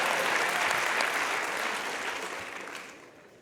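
Audience applause at an INSEAD MBA graduation ceremony: a dense, even roar of many hands clapping in a large hall, loud at first and then gradually fading away toward the end.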